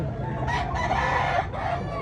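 A rooster crows at a poultry expo in Tabunok, Talisay, Cebu, rising in two loud bursts over a dense crowd murmur, with a salesman talking throughout.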